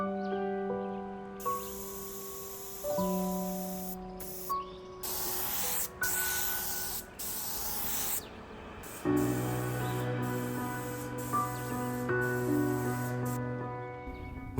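An HVLP paint sprayer spraying sealer onto an antique dresser, a steady close hiss starting and stopping in several bursts over background music.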